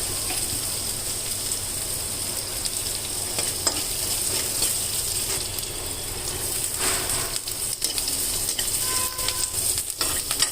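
Green chillies fry in butter in a pan, giving a steady close sizzle with soft stirring scrapes now and then, continuous and even throughout, with no talk.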